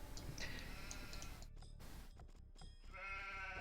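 Sheep bleating in a co-op match of the video game Brothers in Arms, several short bleats sounding over steady in-game ambience and clicking.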